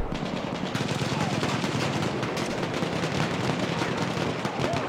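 Video game firefight with a Valiant weapon, dense continuous gunfire and rapid shots layered with chaotic battle noise throughout, loud and unbroken.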